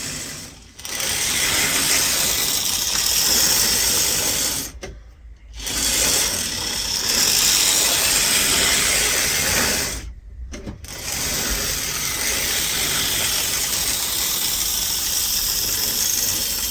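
A Bachmann Deltic model locomotive running on a model railway track, giving a steady, fairly quiet mechanical whirr with fine gear-like texture, broken by two short pauses where the motor drops out.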